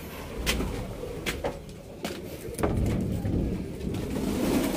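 A returning pet pigeon coos softly in a few short low calls, close by, over a steady background rumble with faint rustling and knocks.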